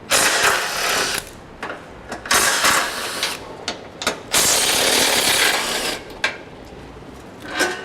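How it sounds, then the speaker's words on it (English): A ratchet backing bolts out of a 2011 Chevrolet HHR during a Blue Ox base plate installation, heard as several close, loud bursts of rapid clicking separated by short pauses, with no talking. "while we take the bolts out of the other side"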